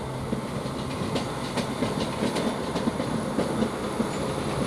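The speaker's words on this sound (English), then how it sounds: "Now we've got another train moving here, which is the towards the Eastbourne Southern service" Southern service train bound for Eastbourne running through Ashford International station, a steady rolling rumble with faint repeated clicks of wheels over rail joints throughout, no voices.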